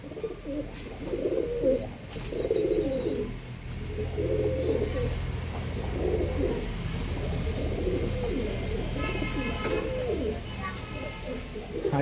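Tiger line pigeons, two males, coo in a repeated low throaty rhythm close by, with someone speaking over the calls and faint chirps in the background.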